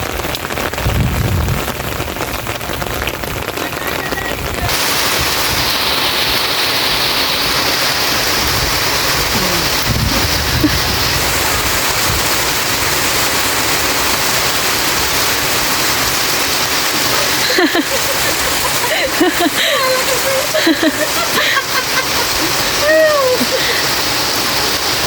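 Heavy rain pounding down on a farm during a storm, a loud, unbroken hiss of downpour throughout, with occasional splashes and voices talking briefly in the later part.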